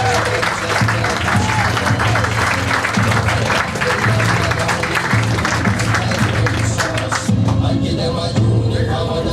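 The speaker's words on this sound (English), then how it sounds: "please give a round of applause for Mr." Loud, sustained audience applause and cheering fill a variety show venue as an ex-NFL player guest, Derek McCoy, is welcomed, with music and crowd noise running underneath throughout.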